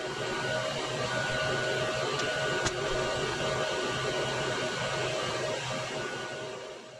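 An xTool F1 laser engraving metal cards runs as a steady, continuous mechanical whir with a faint tonal hum, one brief click partway through, holding even and close throughout.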